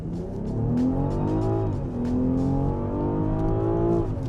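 A Mercedes G-Class SUV engine revving up under acceleration, loud and close, pitch climbing, dipping briefly at a gear change, then rising again.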